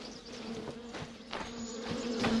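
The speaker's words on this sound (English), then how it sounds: "I hear the bees." Bees buzz in a video game, a steady low drone near a forest path with intermittent louder passes, continuous and alone without voices.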